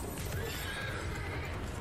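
A horse neighing as a character mounts up in World of Warcraft Classic, a brief whinny over a continuous game soundscape, at moderate level with no talk.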